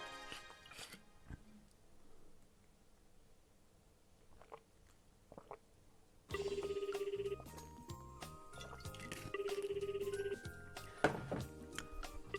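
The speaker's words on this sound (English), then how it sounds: "I call Ayaka's mobile phone using a nearby public phone." A public phone is used to call a mobile phone in the visual novel game ToHeart. After quiet clicks, a loud electronic ring tone plays in two long repeated bursts over game music.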